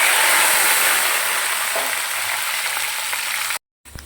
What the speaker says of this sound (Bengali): কড়াই তেল দিয়ে রেখেছি, তেলটা গরম হয়ে গেছে, আলু আর বেগুনটা একসাথেই ভেজে নেব